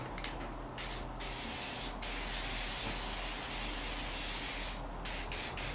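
A spray can hisses lubricant onto a part of a zero turn mower during servicing, one long steady close burst of about four seconds with brief spurts before and after.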